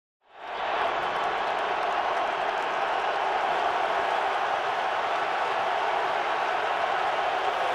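Dense stadium crowd roar at a Thanksgiving Packers at Lions NFL game in Detroit, swelling in within the first second and then holding a steady, loud, broadband wash of cheering and applause for the rest of the stretch.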